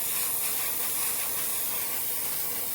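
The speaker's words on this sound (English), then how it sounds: "So I'm going to try to video this with my airbrush." An airbrush spraying paint onto HO scale model railroad track, a steady close hiss of air and paint mist that holds evenly throughout with no talking.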